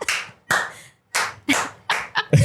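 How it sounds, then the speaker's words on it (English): Six sharp hand claps from one person, close and loud, spaced unevenly with the last few coming quicker, each followed by a brief room ring. "Gotta clap first."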